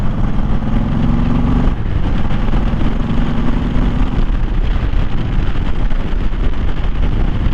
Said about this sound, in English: let's hit the throttle on this open road